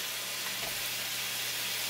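Onion and garlic sizzling in a pan, a steady, close, broadband frying hiss with no talk over it.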